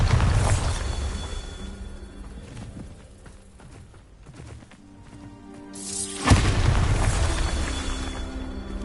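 Bombarda blasting spell going off in Hogwarts Legacy: a loud, deep boom with rumbling low end opens, fades into quieter game ambience, then a second heavy blast erupts near the end.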